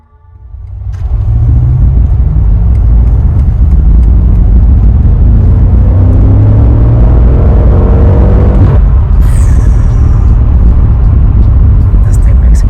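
A BMW M8 Competition engine and exhaust roar loudly up close, with rising revs and sustained acceleration, then a sharp shift into a steadier drone toward the end.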